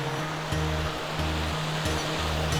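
Creek water rushes over a rapid near a causeway, a steady close-up broadband roar with a low droning hum running underneath and shifting in pitch; no voices.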